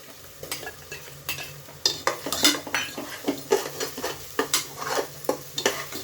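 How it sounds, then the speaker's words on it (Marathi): Onions sautéing in ghee in a pan for mutton keema sizzle under repeated, rhythmic clanks and scrapes of a spoon stirring against the metal, close and clear. "अजून 1-2 मिनिटं आपण याला परतून घेऊया। आता ह्याच्यामध्ये मी थोडंसं तूप घालतीये।"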